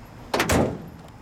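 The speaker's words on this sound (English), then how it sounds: "Let's shut the door and shut the hood" Two solid thumps in quick succession as the door and hood of a 1957 Mercury Turnpike Cruiser hardtop are shut, close and fairly loud, then quiet.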